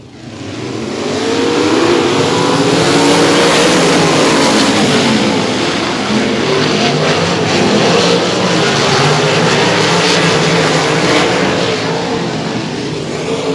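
A field of sprint cars roars away at the green flag start at Heart O' Texas Speedway in the Bandit Outlaw Sprint Series, their engines building to a loud, sustained, overlapping howl that stays steady before easing slightly.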